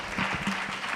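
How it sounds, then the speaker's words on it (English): Brief burst of audience applause at a women's economic forum in Kenya, a dense patter of clapping hands lasting about a second. "Can we give them a round of applause?"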